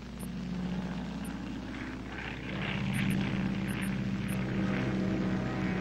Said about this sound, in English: So an air tanker is dispatched and a drop is made to tie in the flank to the ridge.